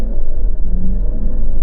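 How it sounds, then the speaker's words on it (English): Mercedes GLS diesel SUV launching hard from a standstill, a deep, loud, steady engine rumble building continuously as it accelerates, with no voices. "let's see how quick this diesel version of the Mercedes GLS is from 0 to 60 miles an hour"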